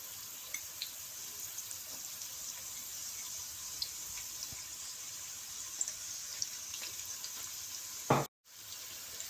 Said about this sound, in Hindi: ओनियन को 2-3 मिनट तक फ्राई करेंगे।